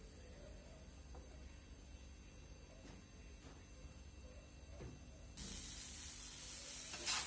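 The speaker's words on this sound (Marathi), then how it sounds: "लो फ्लेमवरती झाकण ठेवून थोडंसं वाफवून घ्या।" Sabudana khichdi steams on a low flame under a lid, giving a soft, faint, steady sizzle with a few light clicks, then a louder brighter hiss near the end, with no talking.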